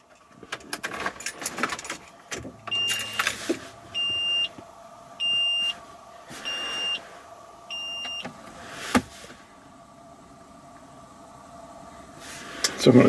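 A Nissan Maxima sounds a series of short electronic chimes after the ignition is switched on, about four evenly spaced beeps between two and nine seconds, with quieter background noise and a brief louder sound at the end.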